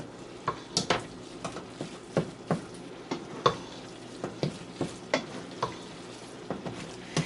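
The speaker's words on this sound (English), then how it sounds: "Mix that up really good" Mushroom stuffing mixture for stuffed portobellos stirred in a pan, a sequence of close, distinct scraping and clacking strokes in an uneven rhythm with a soft sizzle underneath and no voices.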